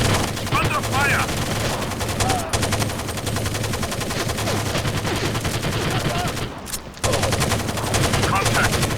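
Sustained automatic gunfire from the PS2 tactical shooter Rainbow Six 3 fills the scene, dense rapid bursts with a brief pause before resuming, loud and continuous.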